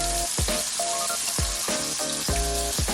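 Steak sizzles in butter in a hot pan, a loud, steady crackle close up, broken by a few sharp hissing bursts as the meat shifts.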